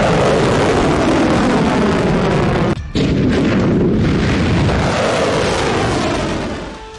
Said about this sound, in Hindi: यमन से हुआ ये मिसाइल हमला देखिए